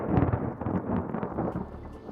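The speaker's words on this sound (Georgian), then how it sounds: "მოსალოდნელი წვიმა იწყება." Rain begins in Sri Lanka as a low, rumbling wash with rolling thunder-like swells, a dense, fairly close roar that rises and falls over a couple of seconds, with no talking.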